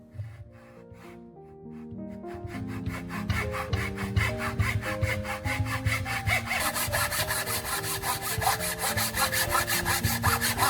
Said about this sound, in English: use a handsaw to cut along the marked line